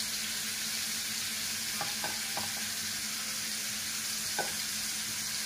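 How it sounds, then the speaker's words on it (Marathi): Small pieces of chicken fry in hot oil with a steady, dense sizzle, broken by a few soft scraping stirs of a utensil against the pan. "हे आपण तेलामध्ये चांगलं होऊ देऊ."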